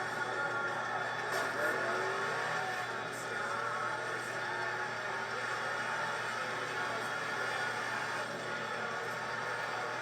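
A Honda NSX races in Gran Turismo 6, its engine a faint, steady drone with slight rises and falls in revs over about ten seconds, with no clear gear changes.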